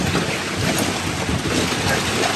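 Thunderstorm at sea during a sailboat crossing of the Gulf Stream, with strong wind of about 37 knots sustained: a loud, dense, continuous roar of wind and rain with no talking.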